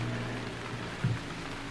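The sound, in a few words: rain in video game Gemini Rue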